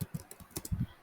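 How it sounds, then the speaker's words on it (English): Quick, irregular clicks of keys being pressed on a computer keyboard, close and quiet, with no talking. "now what we can do is we can start typing right now."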